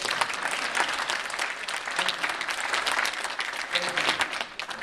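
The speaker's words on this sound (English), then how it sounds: "Now that's a round of applause I appreciate" A live audience gives a sustained round of applause for a speaker telling his cancer survival story, with dense, steady clapping that fills the hall throughout and fades slightly at the end.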